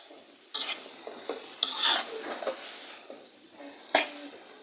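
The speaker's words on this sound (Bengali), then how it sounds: "তো নাড়তে থাকবো।" Water spinach greens with whole green chillies being stirred in a pan: a few sharp metallic scrapes and clinks of a spatula against the pan, close and fairly quiet, with soft rustling between strokes.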